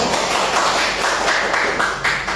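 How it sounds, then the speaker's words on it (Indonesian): Students in a classroom clap for a group, a short burst of fairly close, uneven applause from a small gathering with no speech. "Tepuk tangan untuk kelompok 1"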